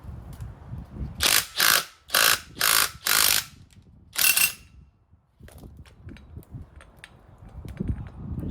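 A ratchet loosens the wheel studs on an Acura NSX, giving five loud, close bursts of rapid clicking, each about half a second long, before quieter handling noises follow.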